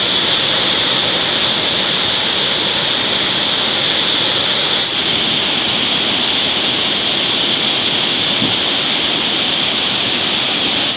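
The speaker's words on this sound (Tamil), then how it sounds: "சிறுவாணி ஆற்றில் நீர்வரத்து அதிகரித்து கோவை குற்றால அருவியில் வெள்ளப்பெருக்கு ஏற்பட்டுள்ளதால்" Kovai Kutralam waterfall in flood after heavy inflow from the Siruvani river, a steady loud roaring rush of water that holds constant throughout with no voices.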